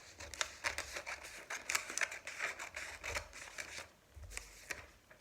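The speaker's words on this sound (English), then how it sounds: "I'm going to cut them out and make little tickets" Scissors snip out small paper fraction tickets for a math lesson, giving a close, quiet run of crisp, irregular cuts and rustles with short pauses between them and no talk.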